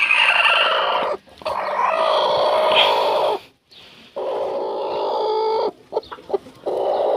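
Chickens, including a hen with hatching chicks, cluck loudly and close by, in a busy continuous stream that breaks off briefly twice, with sharper squawks near the end.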